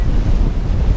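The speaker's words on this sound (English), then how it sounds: "26 knots of wind. And up to, whoops, 4 meter waves." Strong wind roaring across the microphone with heavy sea and waves of 3 to 5 meters in 26-knot wind while sailing from Shetland to the Faroe Islands, a loud, continuous low rumble and wash.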